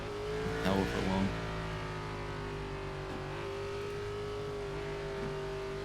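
An Xfinity-series stock car engine in the Roddcar racing game holds a steady, droning hum, with a short rev swelling near the start before settling back into an even tone.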